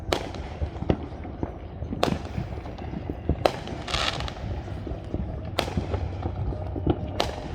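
Fireworks going off on the 4th of July, a string of sharp loud bangs and crackles spaced a second or two apart over a steady rumbling background, some bursts near and others more distant.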